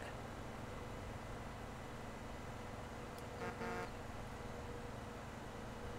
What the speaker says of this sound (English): Honk and pay my respects.